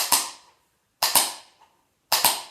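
Three sharp double-struck tap-shoe flap steps spaced about a second apart, crisp and percussive, with silence between each pair.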